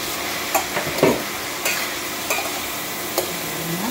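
Shrimp being stirred into sautéing tomatoes in a pan, with a steady sizzle and scattered scraping clacks of the utensil against the pan, heard up close with no talking.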